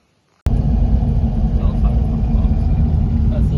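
A car drives through the small town of Mount Perry. Its steady interior road rumble starts suddenly and holds at a constant level, with a person talking over it.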